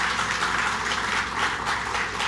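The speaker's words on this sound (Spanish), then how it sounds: "eso merece un aplauso" Dense, continuous applause from a crowd at a talk on mining projects in Guerrero, a steady wash of many hands clapping with no break.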